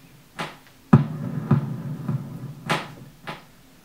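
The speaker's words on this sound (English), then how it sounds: "I think the actual clap sound was maybe hitting the bag of ice." Clap- or snare-like hits made by striking a bag of ice, heard as several dry, close slaps in a loose rhythm, one sharper and louder than the rest, with no talking.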